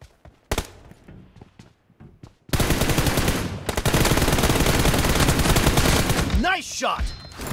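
Gunfire in a shooter video game during a 1v1 match: a few sharp isolated shots, then long dense bursts of rapid automatic fire, loud and close, breaking off near the end.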